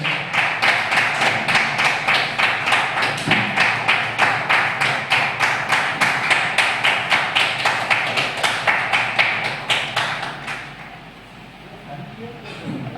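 An audience claps in strong, rhythmic unison, about three beats a second, while a guest is honoured with a shawl. The clapping stays loud for roughly ten seconds, then thins out and fades into quieter room sound.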